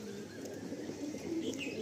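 Pigeons in a pigeon loft give a soft, low cooing murmur that runs faintly and continuously through a brief moment, with a few light chirps above it and no voices.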